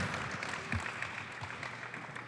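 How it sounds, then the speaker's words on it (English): Audience applause for Owen during an interview event: a faint, continuous wash of clapping that holds steady throughout, heard from a distance with no clear voices on top. "Round of applause for Owen."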